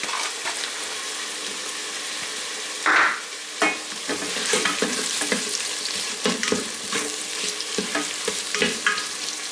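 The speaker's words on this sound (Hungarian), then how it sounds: "Amikor már picit dinsztelődött a hagyma, akkor beleteszem a répát." Onion and carrot sautéing in an electric pressure cooker, a steady close sizzle with repeated scraping and stirring clatter and a brief louder hiss partway through, no talking.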